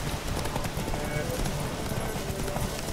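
Roach the horse gallops in The Witcher 3 with quick, steady hoofbeats throughout, while game sound and a voice talk over the top.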